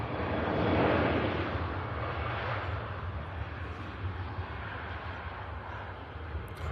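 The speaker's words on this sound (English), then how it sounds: "Ryanair departing on the south side on the way to Ibiza." A Ryanair airliner departs from the south side of the airport bound for Ibiza. Its engines make a steady, broad roar that swells early and then holds, heard from a distance outdoors.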